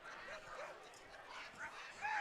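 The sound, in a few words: dogs barking at a baseball game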